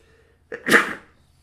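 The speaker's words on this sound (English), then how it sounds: "I have to sneeze." A single loud, close sneeze with a sharp breathy intake and explosive release over a quiet background.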